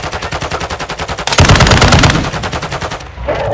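Rapid bursts of automatic gunfire crack out in an online shooter match, a steady rattling stream that grows into a denser, louder volley midway before cutting off.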